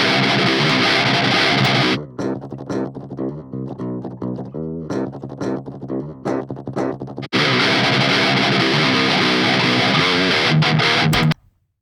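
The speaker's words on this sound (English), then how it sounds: "And then it sounds like a distortion guitar." Heavily distorted electric guitar, with the distortion added by a plugin, plays loud sustained chords, breaking into choppy muted stabs midway before returning to full ringing chords and cutting off.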